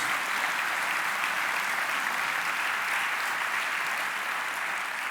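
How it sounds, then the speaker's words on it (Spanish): Sustained applause from a church congregation during a Spanish-language sermon, a steady dense wash of clapping that stays loud and even for the whole stretch with no voices over it. "denle un aplauso a Dios"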